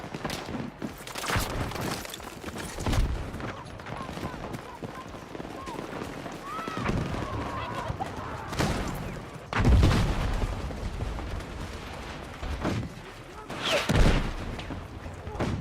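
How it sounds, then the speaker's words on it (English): Mortar fire in a video game battle sounds as scattered dull booms and bursts of gunfire within busy combat noise, with a person talking over it. "Don't tell me somebody is not mortaring."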